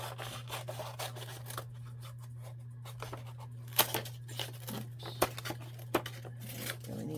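Scissors snip around the edges of paper glued down onto a papercraft project, giving a string of short, crisp cuts and crinkles up close over a steady low hum, with no talking.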